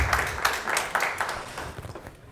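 Meetup audience applauding at the close of a tech talk, a steady patter of many hands clapping at moderate distance that slowly fades out.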